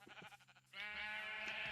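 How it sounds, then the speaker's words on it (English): Minecraft sheep bleating, a couple of short soft bleats giving way to one longer, louder quavering bleat that fills most of the moment, with no talk over it. "Yeah, sheep, I hear you."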